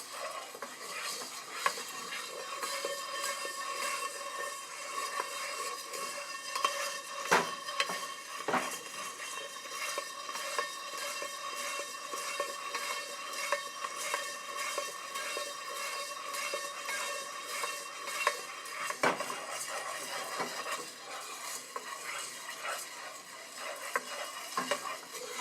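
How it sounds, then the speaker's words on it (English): Coffee beans roast in a pan over a fire, stirred continuously so they rattle and scrape in a dense, even patter with occasional sharper knocks against the metal, steady and fairly quiet, no voices. "you can see that we're entering the browning of the beans, and it's roasting quite evenly."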